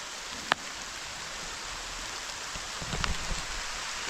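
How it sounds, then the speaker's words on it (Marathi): Steady, soft rain hiss fills the background during mango picking, with a sharp tap near the start and a few faint knocks later; no voices. "हा बघा पाऊस पडतोय"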